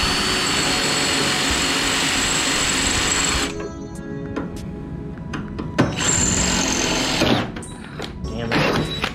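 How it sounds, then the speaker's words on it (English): A power drill bores into metal during cowl removal on a 1964 Ford Falcon, a steady high whine that cuts off and gives way to intermittent shorter bursts and clanks. "Well, I believe it's going to take a little extra drilling here."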